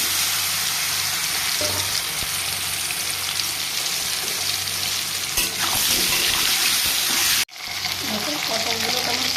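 Pointed gourd (potol) rubbed with salt and turmeric dropped into hot oil, a loud continuous frying hiss close up with stirring clatter, briefly broken by a sharp cut before the sizzle resumes.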